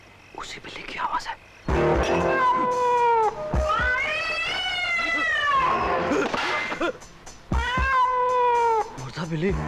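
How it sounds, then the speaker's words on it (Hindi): Film sound effect of a cat meowing in a Bollywood murder thriller: a run of loud, close, wailing meows and yowls, several stretched out and wavering, coming one after another with barely a pause. "उसी बिल्ली की आवाज है।"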